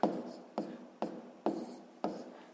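Hand writing of a sixth-grade math exercise, five faint, evenly spaced pen strokes tapping and scratching across paper in close, quiet succession.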